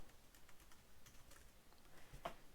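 Close, faint typing on a computer keyboard, a quick patter of soft key clicks with one slightly sharper tap near the end.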